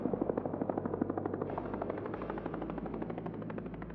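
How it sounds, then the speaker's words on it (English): A synthesized distant helicopter from the game Warframe throbs with fast, regular rotor chops over a low droning hum, steady and moderately loud, with a noise sweep layered in and no voices. "this is what the distant ambient helicopter sounds like in Warframe"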